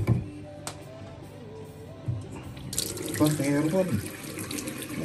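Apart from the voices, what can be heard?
water running from a tap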